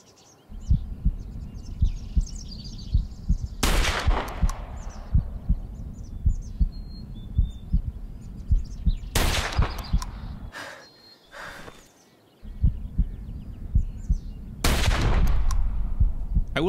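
Three loud, sharp hunting rifle shots from Hunting Simulator 2 ring out several seconds apart, each with a short echo trailing off, over a steady low outdoor ambience with faint birdsong.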